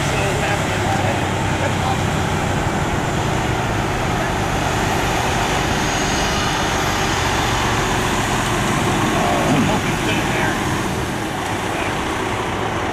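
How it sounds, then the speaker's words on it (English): Motorcycle riding: a loud, constant roar of engine and rushing wind fills the whole stretch without a break, with voices faintly mixed in. "Motorcycle mama!"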